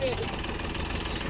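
A JCB machine's engine rumbles steadily near a Mahindra Yuvo Tech+ 265 DI tractor stuck with a heavily loaded trolley, a constant mid-pitched drone filling the whole brief moment.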